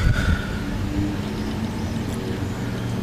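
A VIAIR 88P portable air compressor inflates a 275/60R20 tire, about 33 inches tall, running as a continuous, fairly loud motor drone that stays even throughout.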